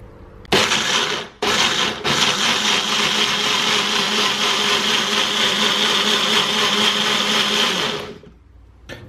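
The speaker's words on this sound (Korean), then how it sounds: "이제 물과 함께 갈아보도록 하겠습니다" A blender grinds vegan mayonnaise ingredients, soaked beans for soy milk, together with water. The motor whirs loud and steady for about seven and a half seconds after two brief starts, then cuts off.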